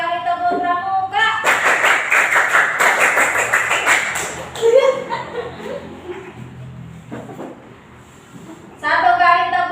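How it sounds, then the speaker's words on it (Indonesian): A class joins in a rhythmic Indonesian scout clap, tepuk pramuka, a quick run of patterned claps lasting a few seconds with some chuckling, and voices talking before and after. "Satu kali tepuk pramuka."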